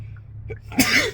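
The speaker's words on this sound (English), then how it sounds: "I'm about to sneeze." A single sharp sneeze, close and sudden, preceded by a brief quick intake of breath.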